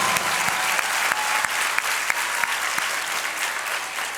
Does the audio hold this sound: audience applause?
yes